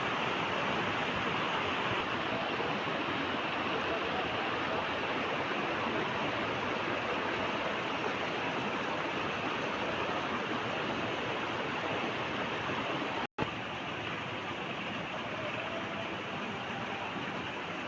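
Steady rushing water of a shaded stream flowing down from Mattupetty, a broad continuous hiss holding even throughout, with a brief dropout near the end.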